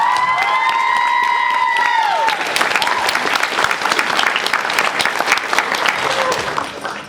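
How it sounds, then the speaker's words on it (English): A loud shout from the crowd opens, then dense, sustained applause from an anime convention panel audience, with whoops scattered through the clapping until it thins at the end. "So let's give Caitlin a big round of applause"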